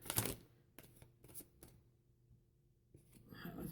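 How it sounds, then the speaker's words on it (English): Tarot cards being shuffled give a few quiet, brief riffling bursts, one near the start and a cluster in the middle, separated by near-silence in a calm indoor space. "That was bad shuffling."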